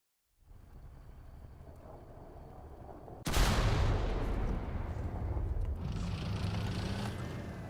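Recoilless rifle firing in War Thunder: after a stretch of low rumbling ambience, a sudden loud blast erupts and rolls into a sustained, heavy roar and rumble that lingers to the end, with no talking.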